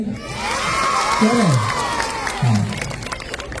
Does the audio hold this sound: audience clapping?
yes